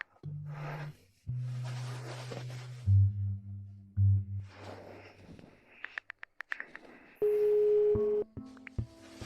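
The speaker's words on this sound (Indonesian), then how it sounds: "Aku telepon Mama dan lihat." Telephone call tones sound alone with no voices: a string of short electronic beeps, then a steady, sustained ringing tone that cuts off cleanly.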